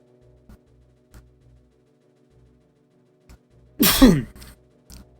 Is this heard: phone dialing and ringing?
no